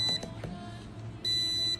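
An Arduino board sounds an alarm notification, a high electronic tone that cuts in near the end after a few soft clicks and low background hum.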